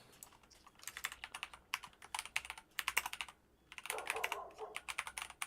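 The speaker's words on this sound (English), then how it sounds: "It's always a bad sign when you hear me typing." Someone types on a computer keyboard in quick bursts of clicking keystrokes with short pauses between them, close and fairly quiet, no voices.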